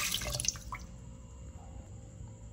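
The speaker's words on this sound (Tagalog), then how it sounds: "Add more water." Water splashes and drips into a cooking pot being filled for boiling mung beans and pork, a brief burst of pouring at the start fading to faint dripping and quiet.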